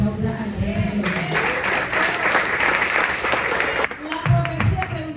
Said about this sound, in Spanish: Alguien que aplauda al Rey de Gloria.